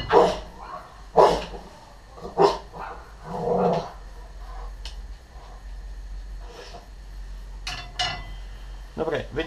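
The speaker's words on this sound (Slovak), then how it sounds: "To je môj šikovný psík." A pet dog in a home kitchen barks and gives short growls and snorts in scattered bursts over a low background hum, fairly close by.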